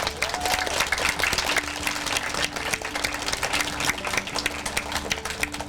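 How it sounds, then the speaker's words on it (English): Audience applause at a campus ribbon-cutting ceremony for the design team, a dense sustained burst of many hands clapping throughout, with no voices standing out. "Please provide a warm round of applause for the design team"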